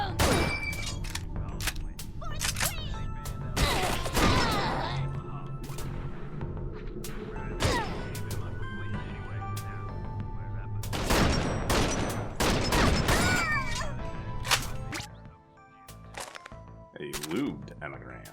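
Rapid bursts of gunfire from the video game Wasted crack and rattle in clusters, loud and close, with pauses between volleys and a player talking over the shots.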